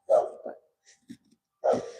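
A few dogs bark at a person walking past on the street: two sharp barks at the start, small yips and whimpers in between, then another loud bark. Close, brief, and no talking.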